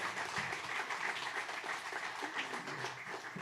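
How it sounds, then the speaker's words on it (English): Audience applause at a community pub talk, a steady dense wash of clapping from a crowd that holds an even level throughout with no voices over it. "How about another round of applause for Scott Breon?"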